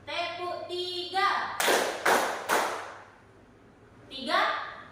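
A group of teachers claps three times in a steady rhythm during a counted clapping routine at a coaching session, the loud unison claps framed by a leader's spoken count.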